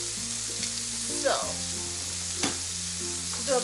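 Pork belly fries in a pan with a steady close sizzle and crackle, broken by a few brief stirring scrapes.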